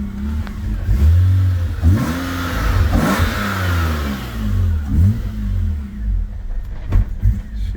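A cold BMW E93 528i engine revs high, rising and falling in repeated surges, close and loud throughout.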